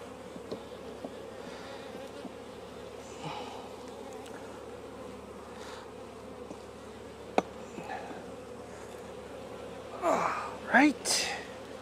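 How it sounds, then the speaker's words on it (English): Worker honey bees drone in a steady, close buzz while a beehive is opened, with soft knocks and a voice speaking briefly near the end. "And these just look like worker bees."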